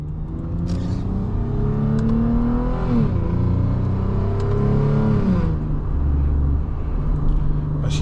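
A Lexus IS250 engine runs steadily and loud throughout, its low hum rising and dipping in pitch as revs shift, with no talk over it.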